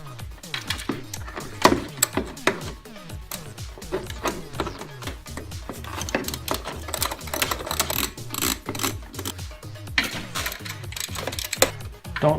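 A 13mm socket wrench ratchets bolts loose on a 2008 Ford Explorer with a 4.0L engine, rapid repeated clicking in bursts with metallic knocks and pauses, close up and without speech.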